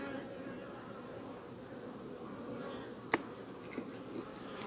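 Soft, continuous buzzing of many honeybees close by at an open hive, a low steady hum with a sharp click or knock partway through.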